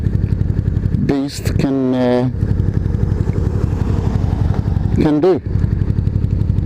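A Yamaha Dragstar 650 motorcycle engine idles with a steady, deep rumble close by, while someone talks over it in short bursts.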